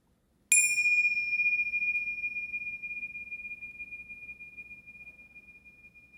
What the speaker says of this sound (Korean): 종소리 한번 치면 여러분 종소리 딱 끝나면 눈을 지그시